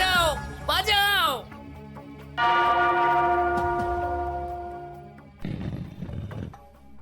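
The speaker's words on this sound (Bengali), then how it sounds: "ওই ঘন্টাটা বাজাও, বাজাও" A bell rung several times in a staged comedy scene, its ringing tones sustained and fading, with excited voices and a horse-like whinny effect around it.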